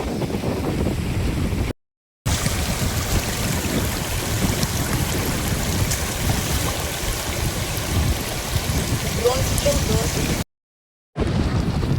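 The floodwaters of the Madhvati river rush past in a steady, loud roar, buffeted by wind on the microphone and broken by two brief dropouts.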